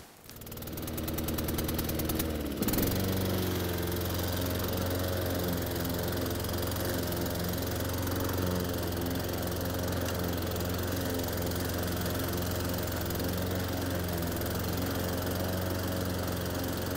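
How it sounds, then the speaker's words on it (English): A petrol lawn mower engine runs steadily and loudly close by, with a strong low throbbing drone after a brief revving start, and no voices. "now I've done the petrol mower, that lasted just over 7 minutes"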